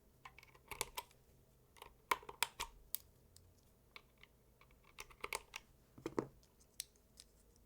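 Unlubed NovelKeys Dry mechanical keyboard switches pressed in irregular bursts, sharp close clicky clacks with scratchy bottom-outs, some quick clusters and single taps, no voices.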